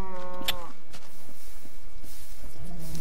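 Cows mooing in the Minecraft video game, a couple of short, drawn-out moos from game cattle, with quiet background sounds and a faint voice in between.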